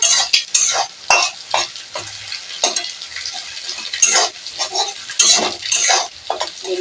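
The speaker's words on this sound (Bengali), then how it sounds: "আমার ভাজা হয়ে আসছে অল্প সময় হলেই ভাজা হয়ে যাবে" Egg frying in a pan while being stirred and scraped with a utensil, giving a steady sizzle broken by repeated close, uneven scraping and clinking strokes, with no talking.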